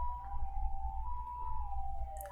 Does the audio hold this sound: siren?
yes